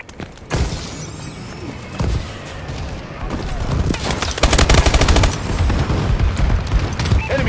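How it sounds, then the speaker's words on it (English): Explosions and rapid gunfire from a bombing run in the video game Call of Duty: Advanced Warfare, with bursts of machine-gun fire and booming blasts building to a dense, loud barrage; a voice speaks briefly over the action. "Friendly bombing run incoming."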